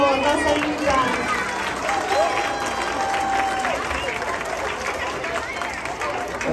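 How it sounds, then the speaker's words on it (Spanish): An audience applauds a performing music group at a morning event, with steady crowd clapping running throughout, overlaid by voices and a few tonal sounds in the room. "un aplauso por favor"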